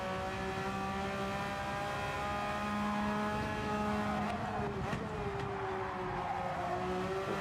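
A Porsche race car engine in Gran Turismo 7 holds a steady high drone with layered harmonics, a sustained note that shifts slightly in pitch as the car turns in, with no talk over it.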